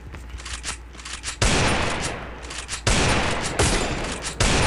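Loud bursts of gunfire in a shooting video game: several sharp, heavy volleys arrive at intervals of about a second and a half, each decaying into quieter rattling shots between them.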